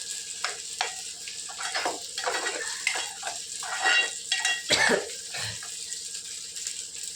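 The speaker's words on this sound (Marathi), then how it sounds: "आता टाकत आहोत आपण कांदा लसूण मसाला लाल तिखट" Onion-garlic masala and red chili powder sizzle in a pan as a spatula scrapes and stirs in uneven bursts, close and moderately loud, with no voices.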